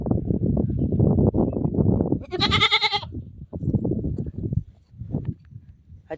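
A goat bleats once in a loud, wavering cry in the middle, set between stretches of nearby talking and background noise.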